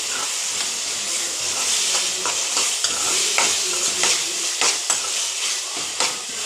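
Tomato pieces are stirred into onions already browned in hot oil, with a loud, continuous sizzle and hiss close up and frequent scraping strokes of a spoon against the pan.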